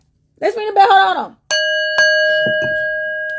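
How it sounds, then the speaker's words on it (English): A person speaks briefly, then a bell is struck twice, its clear ringing tone sustaining and slowly fading with a few faint knocks underneath. "Let's ring the bell."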